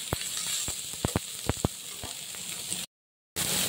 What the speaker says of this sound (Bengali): এবারে আমি বাঁধাকপিটা দিয়ে আবার নেড়ে নিই, শুধু একটু সতে করা বন্ধু